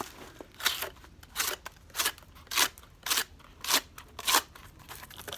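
A Quiet Carry Drift LC knife cuts through material during hard use testing, giving about nine evenly spaced crunchy slicing strokes, close and crisp, with quiet pauses between them.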